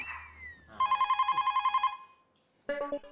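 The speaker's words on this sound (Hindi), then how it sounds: "गांव से नाथालाल भाई का फोन है।" A household telephone rings in a sitcom scene with a fast, loud electronic trill of about a dozen even pulses, then a short burst of another ring after a pause.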